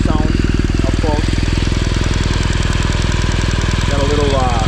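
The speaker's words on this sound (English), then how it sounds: "Here's how the motor sounds up close." Up-close idle of a 2016 BMW R1200R motorcycle's engine: a steady, loud, fast-pulsing mechanical throb with no change in pace, while a voice talks briefly over it at the start and again near the end.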